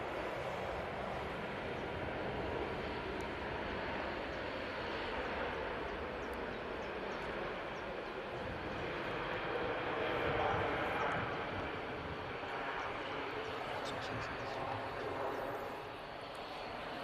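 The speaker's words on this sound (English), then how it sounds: "Jump onto the Cathay Pacific. One of the most elegant looking aircraft out there in my opinion." A Cathay Pacific airliner at Manchester Airport produces a broad, steady jet roar heard from a distance, swelling slightly midway and easing toward the end.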